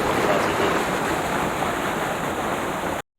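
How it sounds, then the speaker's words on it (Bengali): Roaring water at Ghagra waterfall, a loud, continuous broadband rush with no breaks, heard close up and cut off abruptly at the end. "এই তীব্র জলের গর্জন শুনে"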